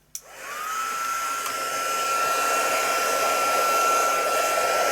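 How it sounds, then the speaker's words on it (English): A heat embossing tool switches on with a click and blows hot air in a steady, close whirring hiss with a thin high whine, building slightly and running alone for several seconds. "Right, let's get that heat embossed."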